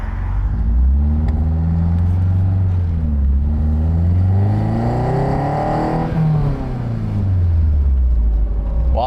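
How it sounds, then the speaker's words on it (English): A 1977 Toyota Celica with a swapped Honda F22C engine drives hard, loud and close from inside, the engine revving up through high rpm, dropping on a quick shift, then climbing again. "My brain is tricking me because it sounds like I'm driving a S2000."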